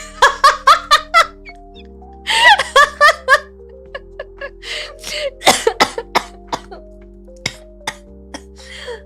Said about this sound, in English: I made myself laugh too hard. I'm coughing.